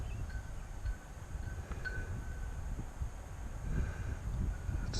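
Strong wind outdoors buffeting a microphone, a continuous low rumbling roar with gusts that swell louder toward the end, no talk.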